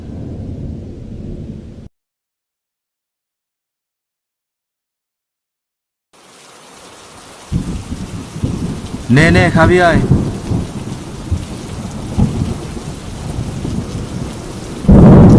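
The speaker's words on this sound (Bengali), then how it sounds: "যে বৃষ্টি পড়ছে আর তুইও আসিস, এই বৃষ্টির দিনে কেউ বেড়াতে আসে?" Heavy monsoon rain pours down with loud thunder, a steady roar broken by a deep rolling clap near the end, after a silent gap; a voice speaks briefly at the start.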